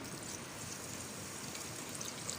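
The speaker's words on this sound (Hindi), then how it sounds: "और आधा कप डाल दूंगी पानी।" Water poured from a cup into a pan of sugar, a steady close trickling pour that runs unbroken and fairly quiet with no voices.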